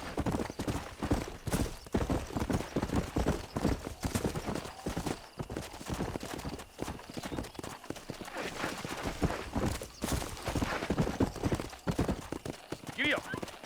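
Horse hooves clip-clop in a steady galloping rhythm in the Red Dead Redemption video game, loud and continuous, with a voice talking over the riding and a brief whinny near the end.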